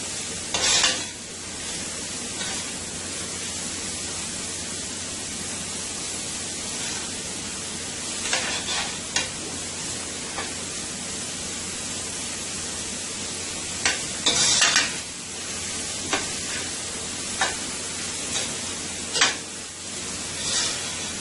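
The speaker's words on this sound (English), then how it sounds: "This is frying up nicely there." Carrots and meats stir-frying for a Guyanese-style mixed chow mein, a steady close sizzle running throughout, broken now and then by brief scraping stirs and clinks against the pan.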